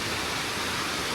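A short burst of unbroken hissing rush from a waterfall beside a hiking trail in the French Alps near Saint-Gervais-les-Bains. It is a steady, even wash of falling water with no voices over it.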